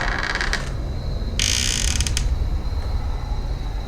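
A hard-to-shut door creaks loudly as it is opened, a long grinding groan that swells mid-clip, with no talking over it.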